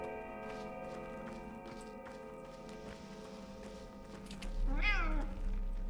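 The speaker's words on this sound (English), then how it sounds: "I just heard a cat." A cat gives a single drawn-out meow near the end, rising and falling in pitch, heard over a steady droning hum with faint ticking in the background.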